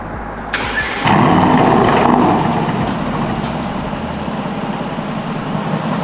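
Aston Martin DBX 707 engine with its exhaust open in Sport Plus mode, starting with a sharp loud bark that settles into a deep, steady idle rumble, heard up close.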